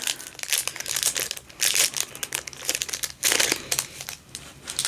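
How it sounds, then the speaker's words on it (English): Packaging crinkles and crumples in loud bursts that come and go close by, plastic being handled and squeezed, with no voices. "I will stop the crinkling"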